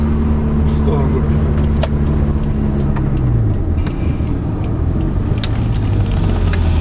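An Alfa Romeo 166 2.4 JTD and a Hyundai Scoupe GT racing at full throttle, heard from inside a car as a loud, steady engine drone with a shifting pitch and people talking over it.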